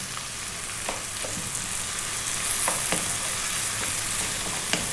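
Bacon frying in a pan, with a steady, dense sizzle and crackle throughout and a few sharper pops and stirring clicks, close and even, no talking.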